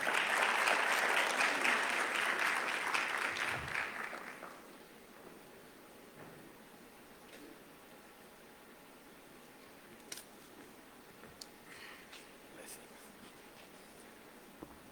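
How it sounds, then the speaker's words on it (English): Audience applause at an investment conference, a loud dense burst of clapping for about four seconds that fades out, leaving a quiet room with a few faint scattered sounds. "Ladies and gentlemen, a round of applause, please"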